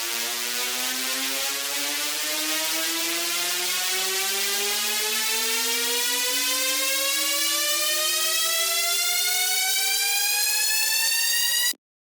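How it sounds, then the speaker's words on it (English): A continuous synth riser tone sweeps steadily upward in pitch for about twelve seconds, loud and bright, then cuts off abruptly. "how to make things pitch up, rise"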